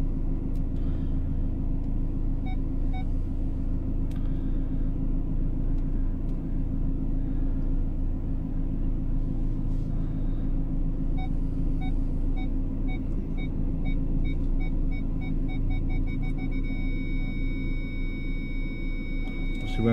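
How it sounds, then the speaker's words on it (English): Car engine idling steadily and fairly loud while the vehicle reverses slowly toward another parked car, using a fitted reversing camera and screen; a constant low rumble holds throughout with faint high electronic tones above. "I'm just going to reverse up to another car."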